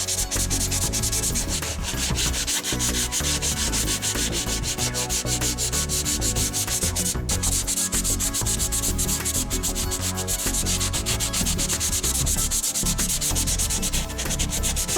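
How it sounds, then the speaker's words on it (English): 180-grit sandpaper is rubbed over filler on a cracked car bumper during a repair. The close, continuous, gritty scratching rasps back and forth in quick strokes for about fifteen seconds without pause, with no one talking. "now it's time to sand. I'm using some 180 sandpaper."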